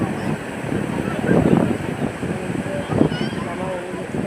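Sea waves rolling in at Puri beach: a steady broadband wash with two stronger surges, buffeted by wind on the microphone, with faint indistinct voices in the background.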